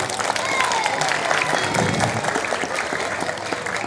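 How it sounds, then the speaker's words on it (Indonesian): A crowd at a religious tabligh akbar and Maulid Nabi gathering applauds the young event committee, a sustained, fairly loud spread of clapping with some murmuring voices underneath. "Bisa kita kasih tepuk tangan untuk adik-adik panitia"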